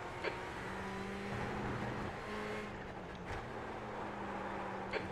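A Ferrari 488 GTE racing sim at Sebring hums with a steady engine drone as a faster class race car approaches and passes, a sustained mid-loud roar with brief sharper swells.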